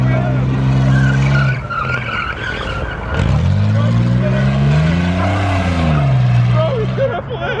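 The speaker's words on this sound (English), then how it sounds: "Hopefully we're gonna get some donuts and some burnouts" A Subaru doing donuts and burnouts, its tires skidding and squealing with the engine revving up and down over a sustained loud stretch, while people can be heard talking and shouting nearby.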